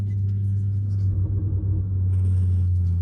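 A VW Golf GTI with the EA888 Gen 3 engine and a sports exhaust, without a diffuser, drones with a heavy low boom, steady and continuous, with a faint hum above it and no talk.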